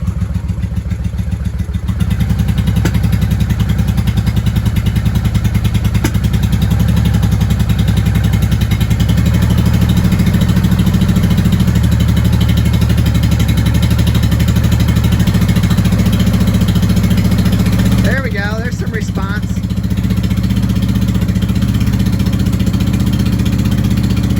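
A 1995 Honda Shadow VLX VT600CD motorcycle engine runs steadily up close with a loud, continuous low rumble, briefly dipping and picking back up near the end.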